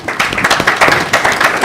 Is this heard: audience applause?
yes